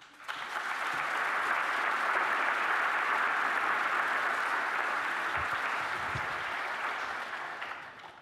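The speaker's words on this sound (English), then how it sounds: "Please join me in a round of applause for Hans Ulrich Obrist, Artistic Director of" Steady, dense applause from an event audience fills the hall for about eight seconds as a gallery's artistic director takes the stage, swelling quickly and holding even before tapering at the end.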